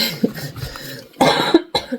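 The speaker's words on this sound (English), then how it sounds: "And I still have this cough" Several separate coughs, close and fairly loud, spaced out with brief pauses between them.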